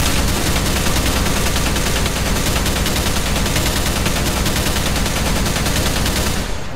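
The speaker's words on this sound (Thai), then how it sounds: "ขอเป็นปืน ไลท์แมชชินกันหรือ LMG ยิงใส่มันเลย" Light machine gun fire in a Minecraft game, a dense, continuous burst of rapid shots that stays loud and unbroken for several seconds before easing off at the very end.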